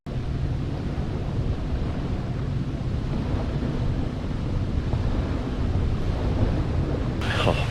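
Steady wind blowing on an overcast day at a lake beach on Lake Erie, buffeting the microphone with a continuous low roar, alongside a faint wash of surf throughout.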